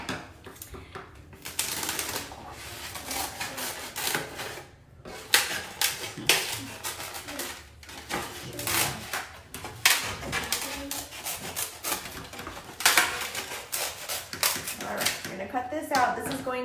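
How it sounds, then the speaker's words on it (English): Scissors or a blade cut a piece from a styrofoam to-go box, making close, irregular squeaky scraping and crunching strokes in quick bursts, with no talk over it. "So I'm gonna cut one out."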